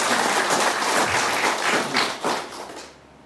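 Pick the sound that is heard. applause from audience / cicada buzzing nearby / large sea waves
applause from audience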